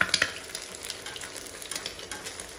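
An egg fries as a half fry in a pan with a close, crackling sizzle, sharp spatters and pops over a soft hiss, and no talk.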